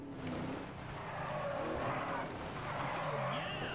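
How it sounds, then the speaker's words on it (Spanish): Tires skid and squeal as a racing car performs a nitro drift in Need for Speed ProStreet, over a loud, continuous engine roar with no pauses. "¿Que vamos a hacer el derrape de nitro?"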